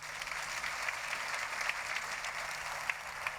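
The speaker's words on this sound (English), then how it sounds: "And a round of applause, ladies and gentlemen, our signers tonight, Joe." An audience claps at a book festival talk, giving the sign language interpreters continuous, moderately loud applause with a few sharper claps standing out.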